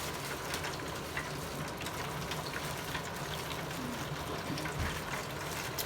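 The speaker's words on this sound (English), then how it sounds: "What I'm going to do now is continue to fry." Floured chicken thighs deep-frying in hot oil, a steady broadband sizzle with fine crackling pops throughout, fairly even and close with no talk.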